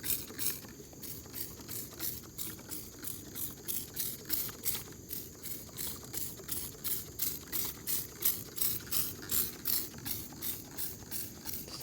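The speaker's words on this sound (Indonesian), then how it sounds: "Kita semprotkan." A pump sprayer sprays pesticide evenly onto wooden stems, giving a close, steady hiss that pulses in a fast regular rhythm with faint mechanical rattling throughout.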